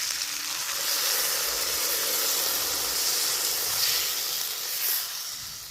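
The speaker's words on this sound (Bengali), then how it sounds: "এবার আমি জল দিয়ে দেবো" Water poured into a hot pan of spice-fried vegetables sets off a loud, steady sizzle and hiss with steam that swells and eases over several seconds, close by and with no voices.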